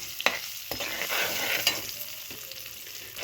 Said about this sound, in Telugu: పచ్చిమిరపకాయలు వేగాలండి